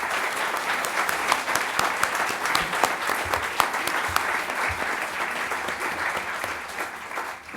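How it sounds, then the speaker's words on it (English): Audience at a talk on positive behaviour support giving a sustained round of applause, dense clapping holding steady for several seconds before tapering off. "So maybe we could just have a round of applause for Jonathan Beebe, Marion Waldridge and Joe"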